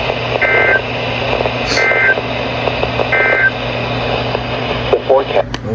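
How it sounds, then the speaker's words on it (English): National Weather Service weather radio warning alarm test tones: three short, evenly spaced high beeps sound over a humming radio broadcast background, followed by faint clicks. "This ends the test of the National Weather Service weather radio warning alarm."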